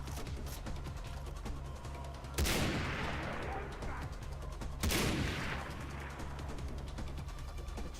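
Two loud gunshots ring out in the Far Cry 3 video game, each a sharp blast with a decaying echo, spaced a couple of seconds apart over a steady low game background hum.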